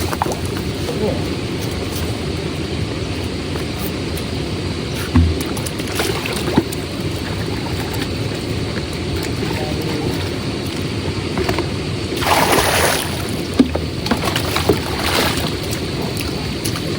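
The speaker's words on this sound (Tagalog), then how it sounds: "Marami pa ako naririnig na pauwi na bangka." Fishing boats heading back toward the dock drone with a steady low engine rumble over water. The sound is continuous and fairly distant, with a brief louder swell partway through and people speaking over it.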